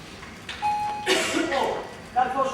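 A doorbell sounds with a sustained ringing tone, followed by people talking loudly over and after it, with another bell-like chime near the end.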